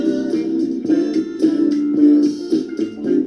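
A 1978 disco-era song plays steadily, with a pulsing rhythm and sustained tones at moderate volume and no talking.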